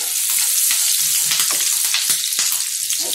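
Green chillies hit a pan for chicken chilli, giving a loud continuous close sizzle and hiss with irregular crackles and spatters throughout, no talking.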